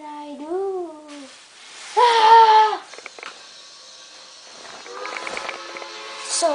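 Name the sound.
steam train whistle blown three times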